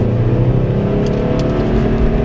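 A steady mechanical whir from a Toyota Prius hybrid drivetrain, continuous and fairly loud, with faint high-pitched electric whine drifting in and out.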